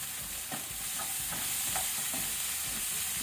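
Tomato goes into onions frying in a pan and gets stirred, a steady sizzle with soft repeated scraping strokes, close and continuous.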